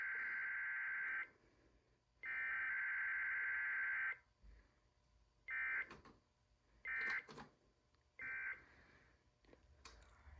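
Loud, harsh electronic emergency alert header tones from a Gorman-Redlich Model CEB Emergency Broadcast System encoder/decoder repeat in a row, two long blasts followed by three shorter ones, with faint static between them.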